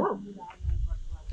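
A dog in the Alangadai hill village near Salem gives one short, sharp bark right at the start, followed by low rumbling noise and some background voices.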